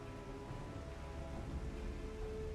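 Steady rain falling in the video game Final Fantasy 14, a continuous even wash of noise with faint low rumble underneath and a few soft tonal lines, no talking.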